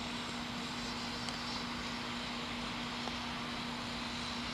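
Battery-powered RC land yacht with an air-powered turbo fan upgrade running on its own, a steady continuous whir with a strong constant hum throughout, fairly close and uninterrupted.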